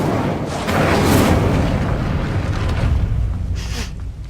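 Fiery spell blast in Hogwarts Legacy, a loud booming burst with a whooshing roar that swells early, rumbles on, then flares again briefly near the end.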